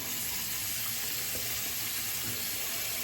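Hot tap water runs in a steady, close, continuous hiss and splash into a sink while someone prepares for a travel shave with Barbasol shaving cream, with no talking.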